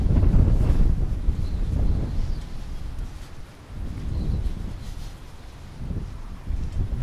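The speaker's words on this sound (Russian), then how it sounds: "Из-за того, что такой сильный ветер" Strong gusts of wind at a seaside vegetable garden buffet the microphone in loud, low roaring bursts that rise and fall, with no voices.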